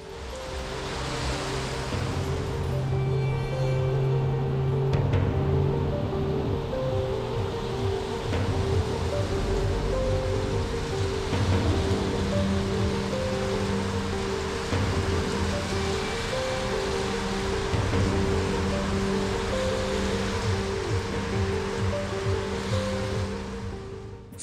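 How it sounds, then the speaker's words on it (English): Steady, heavy rushing noise of a sudden tropical downpour in Sri Lanka continues throughout, loud and unbroken, with a low rumble underneath. "waiting out the end of the sudden downpour"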